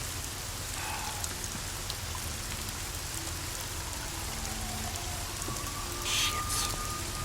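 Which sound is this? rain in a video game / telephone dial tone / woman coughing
rain in a video game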